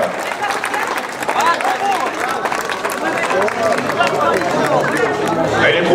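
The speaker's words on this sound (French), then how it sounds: "on peut les applaudir une nouvelle fois, s'il vous plaît" A crowd applauds participants at the Nocturne des Ruelles night race, steady clapping mixed with chatter and voices talking over it throughout.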